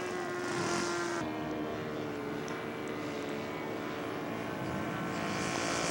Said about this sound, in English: Very nice takeoff. Aircraft called a Sopwith.